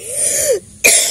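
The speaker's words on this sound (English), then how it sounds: "A cough comes to me, you know, like crazy." A single close cough with throat clearing, a rough rasp that breaks off into a brief pause before a second sharp burst.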